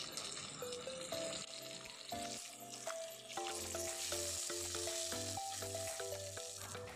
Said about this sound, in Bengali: একে একে আমার সব মাছ ভাজা হয়ে গেছে।